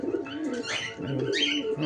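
A black pigeon with a bad temper coos close by in short, throaty bursts with higher chirpy notes mixed in, heard alone and without talk.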